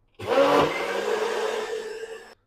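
A mixer grinder whirs loudly, grinding dosa batter in one steady burst of about two seconds that starts abruptly and cuts off, with a rough motor hum up close.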